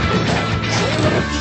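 A trailer ejected from a cartoon car in Turbo Dogs, heard as a loud, dense crashing clatter lasting about a second and a half.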